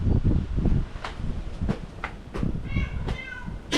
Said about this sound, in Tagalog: Kumakahul yung pusa.